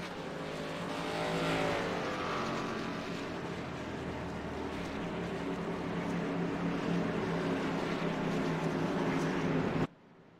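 Race cars in a sim racing game at ISM Raceway rolling down pit road, a steady engine drone with shifting tones throughout before cutting off abruptly at the end.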